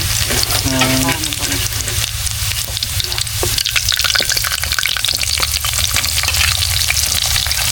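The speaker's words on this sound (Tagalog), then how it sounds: "magluluto ko lang ng bawang" Garlic frying in a hot pan at a home birthday meal prep, a steady loud sizzle with occasional stirring scrapes running throughout.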